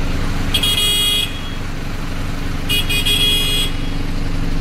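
Vehicle horns honk in two long bursts over a steady rumble of idling engines in a traffic jam at a border crossing, with truck and road noise constant underneath.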